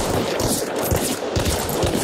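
Shotgun blasts ring out during a firefight in the video game Hunt: Showdown, several loud, sharp booms spread across a couple of seconds over dense, noisy game ambience.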